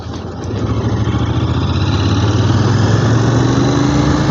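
A heavy Royal Enfield Interceptor motorcycle engine drones loudly and steadily on a monsoon ride through the forest along the Karjat–Murbad road, rising slightly at first and then holding an even, throbbing hum with no talk.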